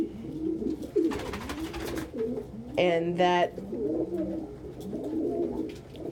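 A pet pigeon coos in soft, repeated rolling phrases close by, while a person talks over it and a brief rustle passes midway.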